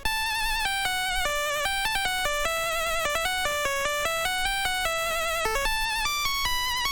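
A bright, high-pitched synth lead plays a quick melody of short and held notes, the longer ones wavering with clear vibrato.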